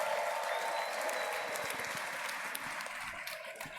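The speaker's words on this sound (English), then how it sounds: "Please give them the biggest applause." An audience claps steadily, many hands together filling the space with continuous applause that holds at a constant level throughout.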